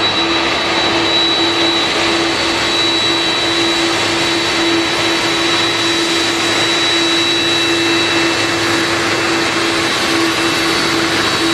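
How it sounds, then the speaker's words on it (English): A roughly 30-year-old airplane taxis on airport tarmac in West Palm Beach, Florida, its loud, steady jet engine whine and tonal hum droning continuously close by, with no talk over it. "Now you see that plane pulling up."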